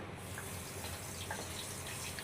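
Hot water is poured into wheat huggi cooking in a kitchen, giving a continuous close gushing, splashing pour with a steady level throughout and no talking.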